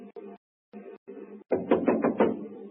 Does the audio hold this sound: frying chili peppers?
no